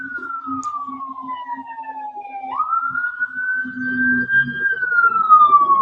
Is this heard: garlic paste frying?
no